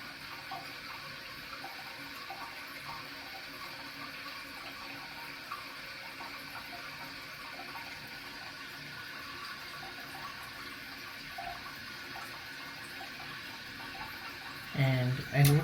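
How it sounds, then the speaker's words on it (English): A toilet tank with a leaky flapper and a chain stuck under it refills slowly with a steady low hiss of running water. A louder burst of sound comes near the end. "A lot of water seems to be coming out from the bowl, and this is filling very slowly."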